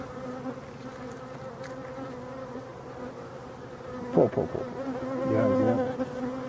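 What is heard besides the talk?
honey bees buzzing at a hive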